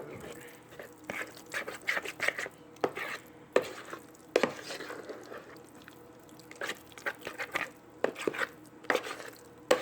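Pumpkin pie filling with flaxseed gel is mixed in a bowl, giving a steady series of close, wet clinks, scrapes and soft knocks.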